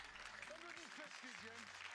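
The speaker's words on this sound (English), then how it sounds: "And there's our one round of applause." Faint, distant clapping from a crowd, a steady wash of applause with voices talking over it.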